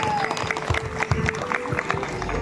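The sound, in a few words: audience applause for the women players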